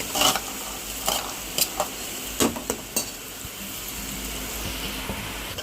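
Grated carrot is stirred in frying oil in a pan, with a steady soft sizzle under several sharp scrapes and clinks of the spoon against the pan.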